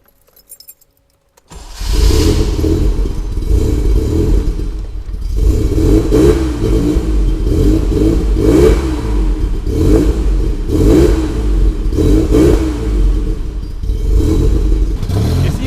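A Citroën SM's Maserati 2.7 V6 injection engine cranks and fires after a brief near-silence, then settles into a loud, close idle broken by repeated rising and falling revs.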